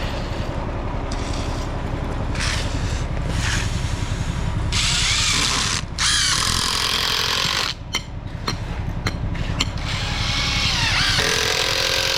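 A power drill drives screws during a rainy concrete-pour job, with loud, close whirring bursts that rise and cut out repeatedly, interrupted by short pauses.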